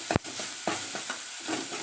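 Ground garlic, ginger, dried red chilli, cumin and pepper paste sautés in a pan with a steady hissing sizzle, marked by a sharp knock at the start and soft intermittent stirring scrapes.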